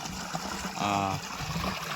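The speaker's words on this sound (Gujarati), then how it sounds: "આમ પાણી વયું આવે અને અહીંયા 2 ભેગી થાય મોટું પાણી જુઓ" Two small streams of water meet and flow on together, a soft continuous trickle close by with no voices.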